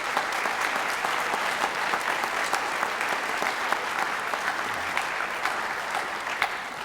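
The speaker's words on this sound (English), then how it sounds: "if I could have a round of applause for the college credit folks" An audience at a 2016 RVTC awards night claps steadily for several seconds, a dense, even wash of many hands at constant loudness with no voices over it.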